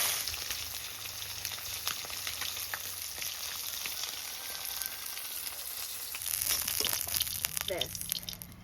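Pomfret fish fry vigorously in hot oil, a steady loud sizzle with crackles and bubbling bursts, with voices faintly talking over it.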